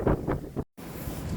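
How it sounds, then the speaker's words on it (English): Strong wind gusting outdoors on a cold day, buffeting the microphone in loud rumbling bursts, with a brief dead-quiet dropout midway before the roar resumes. "just pause there as it got really windy"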